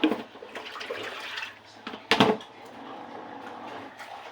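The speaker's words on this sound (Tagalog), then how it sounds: "Kuha lang ulit tayo ng water." Water is scooped and poured with a dipper, giving irregular splashing and gurgling with a brief louder slosh midway, fairly close and with no talking.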